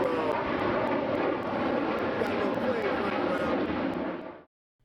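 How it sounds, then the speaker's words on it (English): An airplane passes overhead above housing in the Bronx with a loud, steady broadband engine roar that holds, then cuts off abruptly near the end. "planes do fly overhead"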